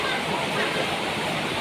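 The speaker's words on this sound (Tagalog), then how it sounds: "Ayan na po yung tubig oh. Pasok na po talaga siya." Floodwater pours into a house in Naic, Cavite, a steady close rushing and splashing that fills the whole short stretch with a voice over it.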